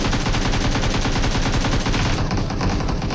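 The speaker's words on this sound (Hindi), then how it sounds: "यहाँ पे देखो फायरिंग वगैरह हो रही होती है" Continuous rapid automatic gunfire from the BGMI battle royale game at a military base, dense and loud with overlapping shots for the whole stretch and no talk.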